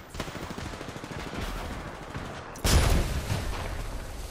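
Gunfire in the video game Apex Legends, including a sniper rifle: a dense, steady barrage of rapid shots, then a sudden louder, heavier blast partway through, with fire continuing after it.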